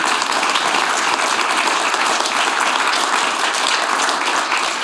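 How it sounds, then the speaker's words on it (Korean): A large symposium audience gives the staff and volunteers a loud, sustained ovation, a dense, even wash of many clapping hands with no speech over it. "저희가 또 다시 한번 큰 박수로 감사 표하겠습니다"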